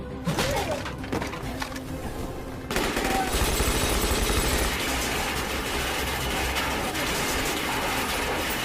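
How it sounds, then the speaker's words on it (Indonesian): Gunfire in a bank heist scene from the Korean Money Heist series: a few separate loud shots at first, then a dense, sustained burst of rapid fire and crashing noise that continues to the end. "Untungnya Misun dapat menembak Park di sana"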